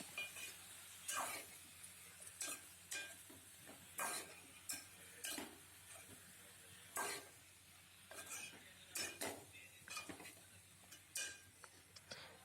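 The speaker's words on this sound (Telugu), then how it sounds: "వంకాయలు యాడ్ చేసుకున్నాక ఒకసారి బాగా కలుపుకోవాలి" Brinjal and tomato curry is stirred in a pan: soft, repeated scraping strokes at an uneven rhythm over a faint low sizzle, close and quiet, with no voices.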